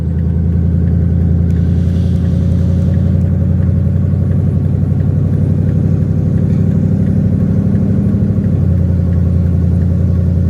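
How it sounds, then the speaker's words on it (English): A pickup truck towing a battered trailer rumbles steadily nearby, its engine holding a low, even drone for about eight seconds before the pitch drops slightly as it eases off. "Truck with that piece of crap trailer on it"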